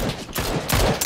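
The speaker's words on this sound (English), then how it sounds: "There's shots left of us too." Gunshots in a PUBG match, a dense, loud rattle of rapid shots filling a brief moment with no break.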